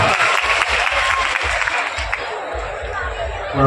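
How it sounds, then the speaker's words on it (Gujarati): Audience applause at a Gujarati comedy show, a dense steady wash of clapping from a crowd with a low rumble and bits of chatter underneath, continuous for a few seconds and swelling slightly at the end. "બધાઓ જોરદાર તાળીઓથી વધાવો"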